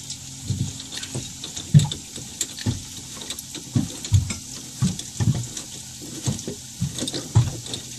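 Running water splashes and trickles while a Raymarine boat speed sensor is cleaned, an uneven series of nearby sloshing bursts over a steady faint hiss.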